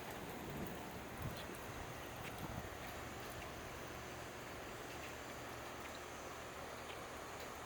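Steady storm rain hisses in the distance, a constant broadband wash with no voices and no clear individual drops.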